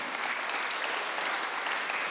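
A church congregation claps during a Sunday worship service, a steady, even patter of many hands at moderate distance and fairly soft, without pause.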